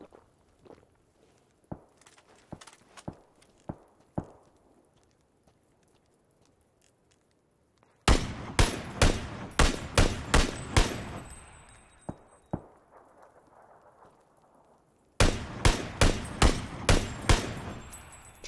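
Gunfire in the battle-royale game PUBG: scattered single shots at first, then dense bursts of loud rapid shots with echoing tails, a pause, and another sharp volley near the end.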